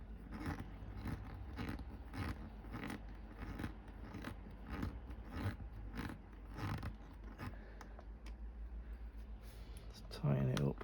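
Screws being tightened on a Fanhome Robocop model kit, a steady run of small rhythmic ratcheting clicks and scrapes repeating close up throughout, with a louder handling clatter near the end.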